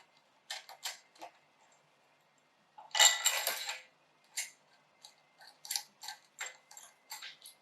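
Engine parts are tightened by hand during a K20 cylinder head swap, a series of close ratcheting clicks in short bursts with a longer rasping run in the middle, no talking.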